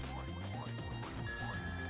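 A telephone rings in the video game The Wonderful End of the World, a repeating electronic trill over steady game music and background sound.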